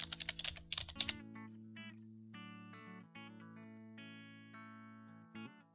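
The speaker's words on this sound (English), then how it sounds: "To insert text into a cell, just double-click on the cell and begin typing." Quick keystrokes clatter on a computer keyboard in a short burst of about a dozen taps during the first second, then give way to sustained electronic tones that continue alone to the end.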